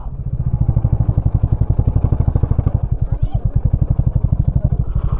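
A motorcycle engine idles with a steady, rapid low thumping pulse as the rider searches for a place to park, close and loud throughout, with faint street noise behind it.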